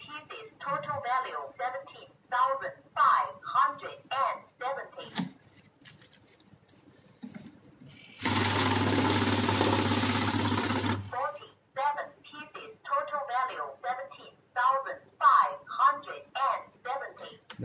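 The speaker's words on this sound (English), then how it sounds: "The machine counts accurately." A NIYO i700 currency note counting machine runs a stack of notes in a loud, continuous whirring burst lasting about three seconds, with someone talking before and after it.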